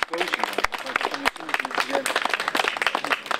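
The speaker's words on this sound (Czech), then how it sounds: "ale ten potlesk si pak zaslouží" Audience applause at the unveiling of a memorial bench, a dense wash of many hands clapping for a few seconds with scattered louder claps and faint voices mixed in.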